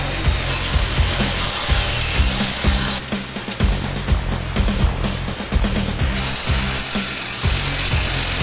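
A ratchet wrench tightens a 13 mm bolt on a Suzuki LT-R450 quad build, its pawl clicking in quick repeated bursts of strokes, close and crisp, with brief pauses between pulls.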